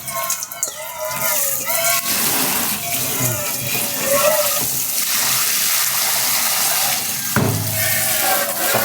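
Galangal and limes are rinsed under a running kitchen tap while making Thai chicken hor mok, a steady rush of splashing water that runs through the whole stretch, with a voice talking over it at times.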